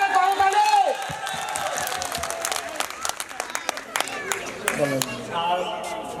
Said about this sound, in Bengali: জোরে সোরে করতালি।